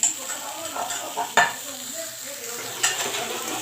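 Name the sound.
Indian gooseberries frying with salt in a pan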